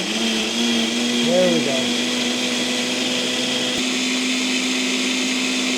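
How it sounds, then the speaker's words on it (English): A small blender whirs steadily as it purees green aguachile verde sauce, a constant high motor whine with a brief pitch wobble, while a person talks over it. "Had to downsize the blender because it wasn't getting pureed enough, but let's blend this up nice and liquidy."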